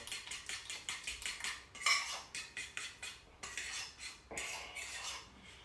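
Rapid, rhythmic scraping and clinking of a utensil against a bowl as cornmeal and coconut milk are stirred together for Jamaican cornmeal porridge, steady strokes close up with no talking.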